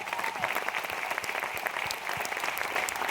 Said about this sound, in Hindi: एक जोरदार तालियां जी आप लिए.